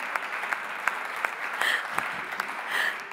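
An audience claps for a volunteer at a security talk, a moderate, loose spatter of hands with some sharper individual claps standing out at a fairly regular pace, and brief whistle-like tones over it.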